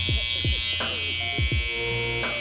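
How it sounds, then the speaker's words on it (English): A Babyliss Influencer Collection electric hair trimmer, unsharpened and set to zero gap, lines up and shapes short hairs with a close, constant buzz, broken by quick scraping strokes against the skin and hair. "It's doing really well at cutting those little hairs and creating the shape that I'm looking for"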